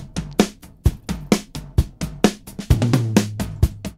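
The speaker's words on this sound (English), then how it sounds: "So I have here a drum track. It sounds like this." Drum track from a music-production session, a steady beat of sharp kicks and snares repeating every half second or so, loud and close with a sustained low tone entering near the end, no talk.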